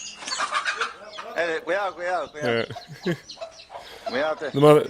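Chickens cluck and squawk loudly and close by in a chicken attack scene, a run of agitated calls that rise and fall in pitch, ending in a sharp squawk.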